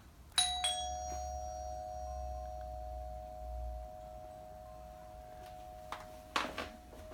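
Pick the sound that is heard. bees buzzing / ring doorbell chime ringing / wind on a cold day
ring doorbell chime ringing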